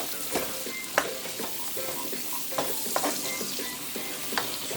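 Onion, garlic and tomatoes sizzle in a pan while a utensil stirs them, giving intermittent scrapes and clinks over a constant frying hiss, close up with no talking.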